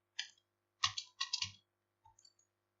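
Several short bursts of computer keyboard typing while macro code is entered, arriving in quick clusters with brief pauses between, fairly close and quiet, with no speech.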